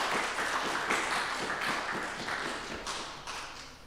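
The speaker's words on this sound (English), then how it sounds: "give her applause" After a talk, an audience gives a round of applause: a soft, continuous patter of many hands clapping, heard at a modest distance and gradually easing off.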